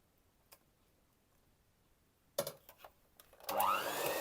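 A quiet kitchen gives way to a few clattering knocks, then an electric mixer whirs up loudly close by, beating butter with custard cream for a Spartak honey cake.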